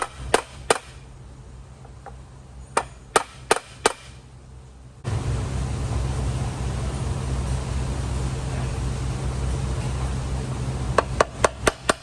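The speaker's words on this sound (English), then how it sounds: "tap on the top of the stud with a hammer, and just a few taps and it gets that grommet fit in perfectly" Sharp metallic hammer taps on a stud seat a valve cover grommet on a 2010-2012 Ford Fusion 3.5 V6, scattered single strikes close by, with a steady broadband hiss rising midway beneath later taps.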